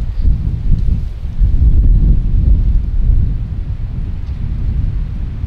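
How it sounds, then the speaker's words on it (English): Wind blows outdoors on a hike to the Twin Arches, a loud, steady low rumble buffeting the microphone, swelling briefly and then easing, with no voices. "A little windy today"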